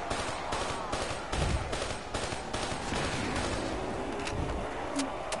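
Sustained automatic gunfire from a Call of Duty shooter game, dense and loud rapid bursts rattling almost continuously across the whole stretch with no voices.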